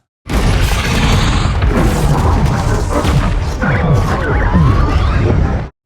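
Muffled, filtered explosion impacts for a force field in a Warhammer 40,000 animated episode: a dense, continuous run of heavy booms and crashes, loud and close, with no talk.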